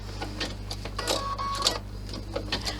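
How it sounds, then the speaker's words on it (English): A sewing machine stitches a clutch bag in short, rapid mechanical bursts, close and clear over a steady low motor hum, with small clicks and pauses between runs. "lower your needle down and then stitch"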